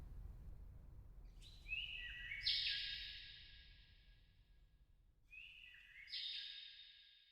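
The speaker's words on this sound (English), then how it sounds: "A bird calls me to attention." A bird calls in a park, giving two short groups of clear, high, plaintive notes a few seconds apart, soft and somewhat distant over a quiet low background hum.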